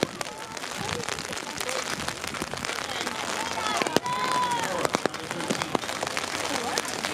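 Rain patters steadily at an outdoor softball game, with scattered sharper drops and taps over a continuous wash, plus faint distant voices and game noise.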